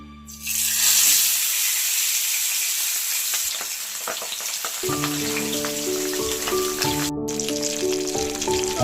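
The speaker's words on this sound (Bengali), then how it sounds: "এবারে মাছগুলো দিয়ে দিচ্ছি শুনেছি পাবদা মাছ ভীষণ ফাটে" Pabda fish dropped into hot oil on a low flame, a loud steady sizzle and crackle that swells within the first second and holds, close up, with faint kitchen clatter and tonal background sounds later.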